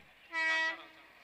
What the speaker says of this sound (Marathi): ट्रेन आली मित्रांनो